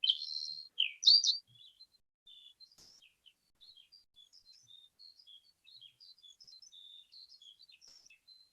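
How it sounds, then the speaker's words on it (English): A skylark sings in thin, high twittering phrases: a louder burst at the start, then a faint, continuous warble. "Listen. Skylark."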